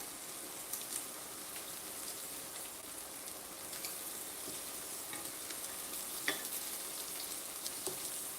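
Shrimp and vegetables sizzle in a stainless steel pan, a steady close hiss like light rain with faint scattered pops and occasional utensil ticks, no voices.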